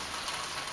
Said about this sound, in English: See the rain.